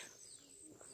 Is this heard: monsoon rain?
no